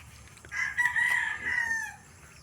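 A single rooster crows once, a clear drawn-out call at moderate distance over quiet background.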